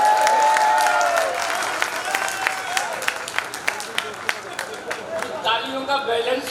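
Loud audience applause at a Hindi comedy poetry show, a thick crowd clap that slowly settles into scattered claps, while a voice talks over it throughout.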